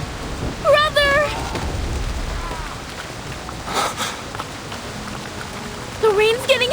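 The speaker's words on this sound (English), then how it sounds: "The rain's getting heavier!" Heavy rain pours in the video game Reverse: 1999 as a steady dense hiss, with a few short whistling, voice-like calls rising above it at the start and the end.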